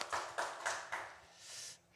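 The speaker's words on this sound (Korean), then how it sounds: "우리 하나님께 영광의 박수 올려드리겠습니다." A church congregation claps at a Sunday service, a short burst of rhythmic clapping with four or five distinct beats before it settles into a softer patter. The sound is faint and slightly distant, with no talk over it.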